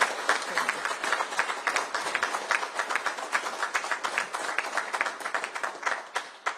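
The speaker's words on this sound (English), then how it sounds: "Would you please give her a round of applause?" Steady applause from an audience at the opening of a new CBP training center in West Virginia, with dense, even clapping that holds for the whole stretch at a moderate level.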